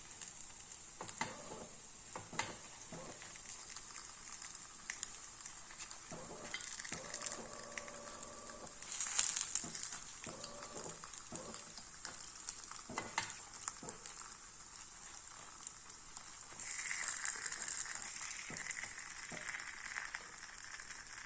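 Aval paniyaram, flattened rice dumplings, cooking in a pan, a faint steady sizzle with soft scraping and stirring touches as they are turned, no voices.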